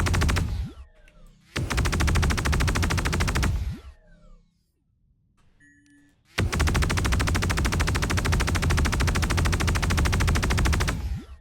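Anvil Valkyrie ship guns in Star Citizen fire in two long, loud sustained bursts of rapid automatic gunfire, separated by a brief quieter pause with faint mechanical tones.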